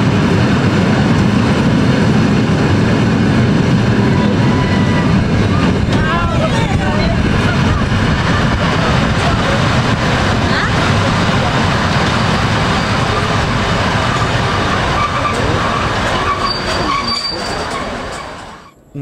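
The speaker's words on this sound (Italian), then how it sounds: "Un treno di container scapitanato da una potente E189 transita in stazione a Rossiglione in direzione nord." A heavy container freight train hauled by an E189 electric locomotive rumbles steadily past close by through Rossiglione station for nearly twenty seconds, a dense roar of wheels and wagons that fades slightly at the end.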